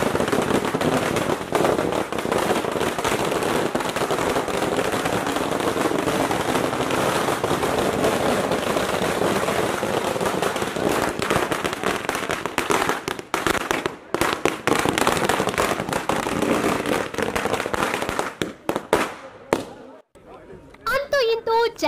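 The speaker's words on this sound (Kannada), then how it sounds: "ಚಾಲೆಂಜಿಂಗ್ ಸ್ಟಾರ್ ದರ್ಶನ್ ಅವರನ್ನ ಪಟಾಕಿ ಸಿಡಿಸಿ ಅದ್ದೂರಿಯಾಗಿ ಬರಮಾಡ್ಕೊಳ್ಳಾಯ್ತು" Firecrackers burst in rapid, crackling strings at a lavish welcome celebration for a film star's arrival, loud and continuous before thinning into scattered pops near the end, with crowd noise and voices underneath.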